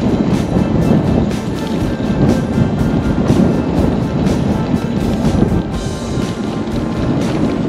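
Wind buffeting the microphone on a trail at McKinney Falls State Park in Austin, Texas, a loud, constant low rumble with gusty bursts and no talking.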